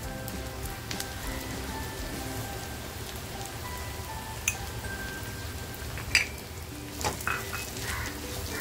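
Grated coconut tipped into onions already browning in a hot pan sizzles steadily, with occasional scrapes and clinks of stirring rising over the constant frying hiss.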